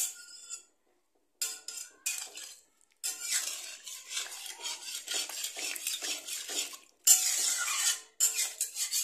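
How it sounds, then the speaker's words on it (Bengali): A spoon scrapes and clatters as it stirs a fish curry of singi fish with pumpkin stems in a pan. It comes in close, irregular bursts separated by short silences, with no voices. "এখন এটাকে ভালো করে নেড়ে নেব"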